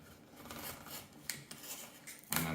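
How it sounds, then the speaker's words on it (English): A fresh craft blade slices at a flat angle into a scatter base for a Gondor mansion terrain building, giving short, quiet scraping and rasping strokes up close, ending with a brief sharp scrape. "So I've got a nice fresh blade here, and I'm just going to cut in at a nice and flat angle"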